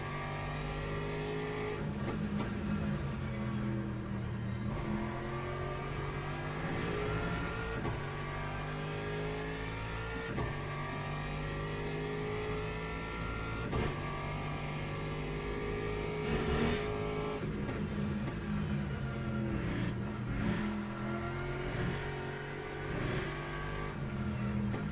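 An Aston Martin race car in Le Mans Ultimate pulls hard through its gears on a straight. The engine note climbs over and over in a loud, steady drone close by, with brief shift dips and no talking.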